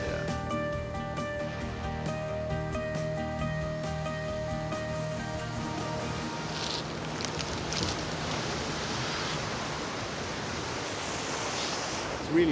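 Waves surge into an ocean pool on the Australian coast, a steady broadband wash of churning surf that stays loud and continuous throughout, with a faint tonal hum in the first half and no talk.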